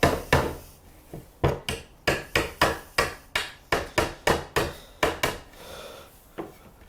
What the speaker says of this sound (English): get out your trusty old claw hammer and knock these nails out a little bit